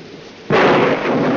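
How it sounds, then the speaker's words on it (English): A sudden loud burst at about half a second gives way to a sustained, dense roar, like a thunderclap breaking into a heavy downpour during a thunderstorm; no one speaks. "I love thunderstorms, don't you?"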